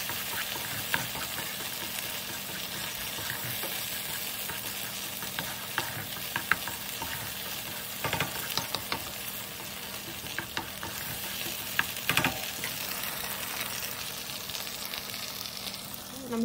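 Chilies cook in a hot pan over raised heat, giving a continuous close sizzle with frequent scraping and tapping as they are stirred around.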